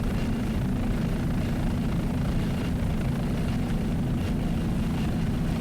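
A helicopter flies overhead during an aerial shot of a boat factory making 30-foot Superboats, giving a steady, loud rotor and engine rumble with broadband wash that holds unbroken throughout, with no voices.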